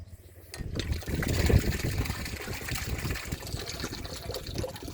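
Floodwater rushes and trickles continuously nearby after rain on farmland, a busy splashing flow that swells after a quiet start.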